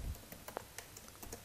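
Faint typing on a computer keyboard: scattered soft key clicks at an irregular pace, heard alone against quiet room noise.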